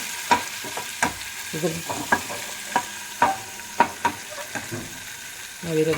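Pav bhaji being fried and spread out across a hot pan, with repeated scraping and stirring knocks of a spatula over a steady low sizzle, close and fairly loud, no talking.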